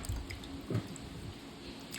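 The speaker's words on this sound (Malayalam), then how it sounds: "എന്നിട്ട് വെള്ളം ഇങ്ങനെ ഊർന്ന വരെ വെയിറ്റ് ചെയ്യുക." Water drips from soaked rice as it drains, a few soft, faint drops and wet splats against a quiet background.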